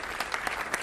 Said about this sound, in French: vous pouvez les applaudir chaleureusement